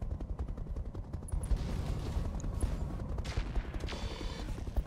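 Weapons fire in the Roguetech BattleTech mod game as a dense, continuous barrage of rapid gunfire and heavy bursts, loud and sustained throughout.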